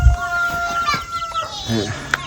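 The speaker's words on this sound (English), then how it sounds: "All of our little chickens out here seem to be doing fine in a little grow out area." Chickens cluck and chatter close by in a busy outdoor pen, overlapping calls with a few louder squawks.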